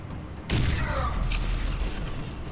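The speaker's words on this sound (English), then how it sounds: "Stupid explosions, stop that!" In the video game Bodycount, after a brief quiet moment, a sudden loud explosion booms and then rumbles and crackles away over the following seconds.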